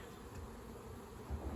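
Honey bees in an opened backyard hive brood box full of honey make a low, continuous buzzing drone, faint but steady throughout.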